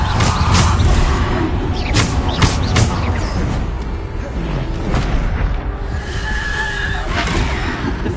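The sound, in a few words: Bombarda spell explosions in a Hogwarts video game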